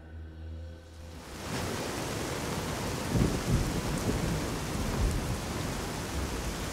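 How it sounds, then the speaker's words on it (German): Rain and thunder in the video game Fallout: New Vegas, steady dense downpour rising after a quieter start, with low rumbling thunder swelling around the middle and later. "Oh Gott, der regnet endlich auf."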